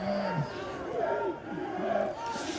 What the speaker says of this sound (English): That one's got the crowd alive now.